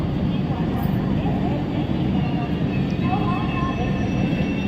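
An Indian superfast express train made up of mixed Rajdhani and Humsafar coaches runs along the line, giving a loud, steady, unbroken rumble of wheels and carriages close by.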